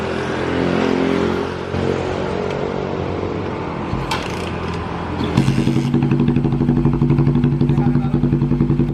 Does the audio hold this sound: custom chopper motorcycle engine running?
yes